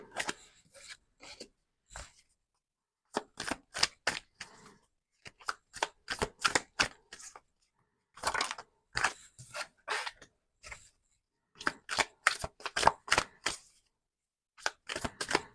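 Tarot cards shuffled by hand in quick crisp bursts of riffling snaps, close and clear, separated by short pauses of quiet.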